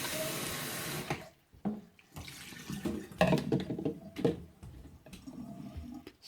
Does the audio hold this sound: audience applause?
no